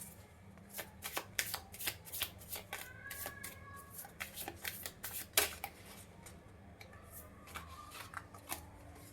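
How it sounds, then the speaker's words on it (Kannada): Tarot cards riffled and shuffled, then set down one by one for a three-card spread, giving a steady run of crisp papery flicks and slaps, close and clear, with no talking. "ಇಲ್ಲಿ ಮೂರು ಕಾರ್ಡ್ ಇಡ್ತೀನಿ"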